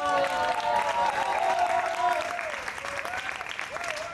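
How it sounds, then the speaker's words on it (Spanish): An audience applauds and cheers for actress Natalia Oreiro at a film event, clapping mixed with whoops and raised voices that ease off toward the end. "Un aplauso para Natalia Oreiro."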